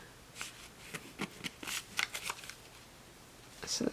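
Paper money bills being folded by hand for a graduation money lei, heard as short, crisp paper rustles and creases in scattered bursts, close and fairly quiet, with no talking.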